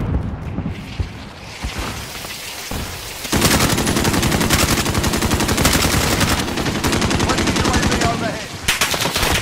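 Rapid automatic gunfire rattles in a hardcore match of Call of Duty Modern Warfare, starting with scattered shots and then bursting into long, loud sustained fire, with a voice briefly heard over it.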